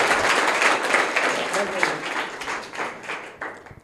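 Classroom of schoolchildren clapping for a classmate's correct answer, a dense, steady patter of many hands that tapers slightly toward the end, with faint voices mixed in.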